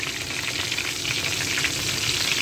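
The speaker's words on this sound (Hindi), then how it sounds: "तो डिनर के लिए मैं बस कबाब फ्राई करूँगी" Kebabs frying in a pan for dinner give a steady, close, even sizzle that holds throughout without pause, and no voices are heard.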